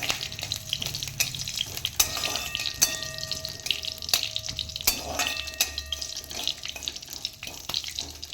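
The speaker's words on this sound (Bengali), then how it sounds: "এবার আমি এর মধ্যে পরিমাণ মতন একটু জল দিয়ে দিচ্ছি, 1 কাপ জল দিলাম।" A cup of water poured into a hot pan of curry leaves and green chillies, splashing and bubbling with sizzle underneath, punctuated by sharp utensil clinks and taps.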